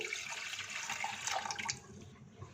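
Water is poured into a bowl to soak tamarind for a street-style Kathiawari cholay chaat; a steady, close splashing hiss runs about two seconds and then thins out.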